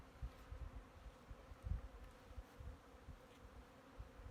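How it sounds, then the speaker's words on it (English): Honeybees buzz in a hilltop bee yard set in a cow pasture during a spring hive check, with a steady, close drone and the hum of individual bees rising and falling as they fly past. "spending a day in a different bee yard"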